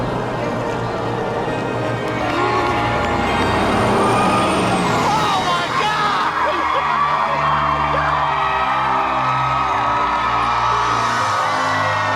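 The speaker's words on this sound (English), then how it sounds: "Bus driver, move that bus!" A bus pulls away in front of a house with a loud engine rumble and an air-brake hiss as a big crowd yells and cheers, the shouting swelling and carrying on while the engine fades.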